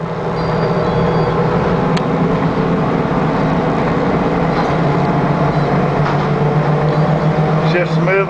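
A 1995 Ford handicap van's engine drones steadily from inside the cabin while driving, a continuous low rumble with road noise and no pauses.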